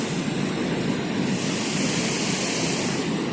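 Strong wind roars steadily in a broad, rushing wash of noise, loud and close with no voices.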